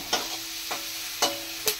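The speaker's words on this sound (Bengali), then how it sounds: "পেঁয়াজটাকে ভেজে নিচ্ছে" Onion sizzles steadily in a hot pan, with a constant crackling fry broken by four sharp scrapes of stirring at uneven intervals.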